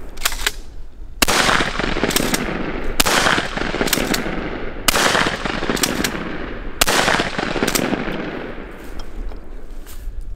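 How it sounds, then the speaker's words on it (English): A Browning BPS pump-action shotgun fires exhibition trick shots at clay targets: several loud, sharp blasts spaced a second or two apart, each followed by a fading echo. "Here's an exhibition shot that you can only do with the Browning BPS"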